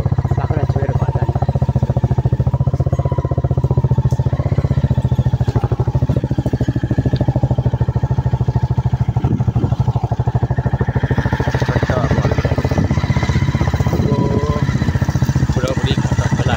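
A motorcycle engine hums steadily and loudly while riding home along a forest route, a continuous low drone with clatter and wind, with faint voices partly buried beneath it.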